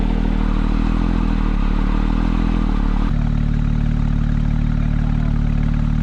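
A Porsche 911 S/T with a lightweight flywheel and clutch idles with a loud, steady rattling chatter close by, a rough engine drone that shifts slightly in pitch about halfway through.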